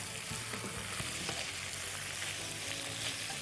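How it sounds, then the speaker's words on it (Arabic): Onion and zucchini fried and turned in a pan, a faint but constant sizzle with light stirring clicks and scrapes throughout, with no one speaking. "البصل والكوسه باخدهم وبقلبهم"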